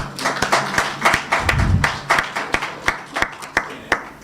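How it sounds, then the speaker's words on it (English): A small audience at a school of education journal launch gives a round of applause, thinning out to a few sparse, distinct claps near the end, with a low thump partway through. "Give yourselves a round of applause."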